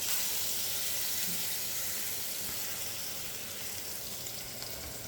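Steady broadband sizzle of meat frying in oil in a pan, a continuous hiss holding level throughout with no talk over it.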